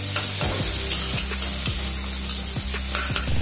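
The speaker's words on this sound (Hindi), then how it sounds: "अभी डाल दे मैं टमाटर" Tomatoes sizzle in a frying pan with onions, chillies and turmeric, a loud steady frying hiss with repeated scraping stir strokes roughly every half second, no talking.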